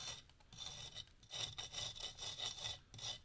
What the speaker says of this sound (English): The trowel takes it off very easy at this point.